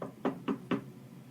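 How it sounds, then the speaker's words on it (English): Three evenly spaced knocks on a bedroom door, close and clear, with a quiet room behind them and no voices. "I'm going to knock on Maryna's door"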